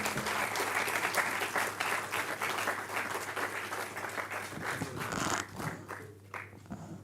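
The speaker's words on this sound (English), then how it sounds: "Please give the professor another round of applause." An audience claps for a professor at an inaugural lecture, a thick sustained round of applause that thins out and fades toward the end, with a low steady hum of the room underneath.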